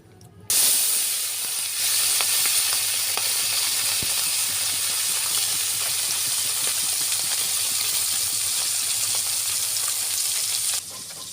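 Rui fish fries in hot oil in a pan, a loud, dense and steady sizzle that starts abruptly, holds evenly for about ten seconds, then drops off, with no voices.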